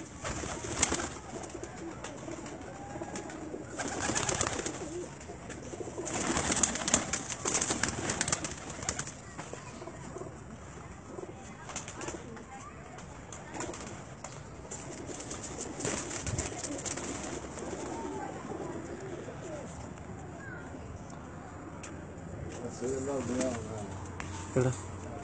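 Pigeons coo on a rooftop in Gujranwala, with repeated soft throaty calls close by. People talk over them throughout.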